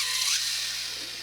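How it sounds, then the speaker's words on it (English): A steady, high-pitched grinding whir of a colored pencil being sharpened, close and continuous, with no voices. "I'm going to have to sharpen my colored pencils here."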